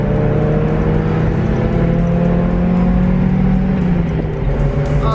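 A Nissan 350Z pulling away from a green light after a downshift to third, its engine droning loud and steady from inside the cabin with a slowly rising then easing pitch, no talk over it.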